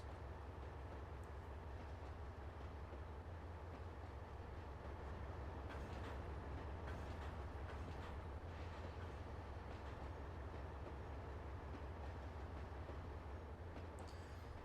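Simulated train in Trainz Simulator 2 rolling steadily along the rails, a constant low rumble with faint clicking and metallic rattles throughout, no voices.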